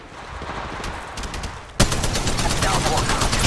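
Rapid automatic gunfire in the mobile battle royale shooter Apex Legends Mobile: a quieter burst of shots, then a sudden loud, dense volley of rapid cracks continuing to the end.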